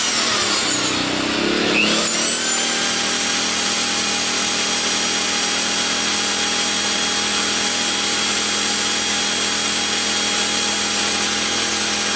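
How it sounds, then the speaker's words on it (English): A Milwaukee power drill powered by a portable generator runs steadily with a constant high whine, after a brief rising start, continuing loud and unbroken to the end. "Runs the Milwaukee drill okay."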